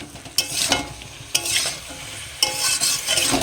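Boiled papaya and potato stir-frying in spice masala in a pan over high flame, a steady sizzle broken by three sharp scraping stirs, close and alone.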